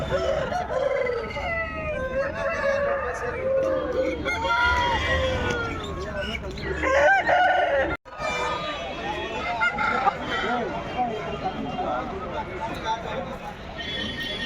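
Amid a noisy crowd of people talking and haggling over rooster prices, roosters crow and cluck repeatedly, several birds nearby in a busy market din.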